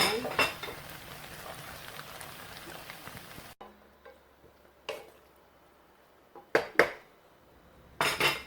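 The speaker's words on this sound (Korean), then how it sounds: "이랑 그릇에다가 담아보겠습니다." Stir-fried homegrown sweet potato stems being served into a bowl, with scattered clinks and scrapes of utensils against dishes, some sharp and close, separated by quiet gaps.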